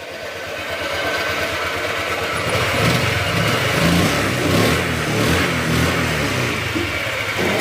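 A motorcycle engine runs steadily up close with a rising rev. A rattling, clattery mechanical noise from a faulty clutch sits under the engine drone.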